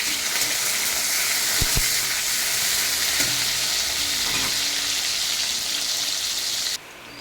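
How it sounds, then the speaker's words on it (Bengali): Chopped onions fry in hot oil for a rui fish kalia, giving a loud, dense, even sizzle with a few soft knocks, cutting off abruptly near the end. "এখন আমার পেঁয়াজটা ভাজা হয়েছে"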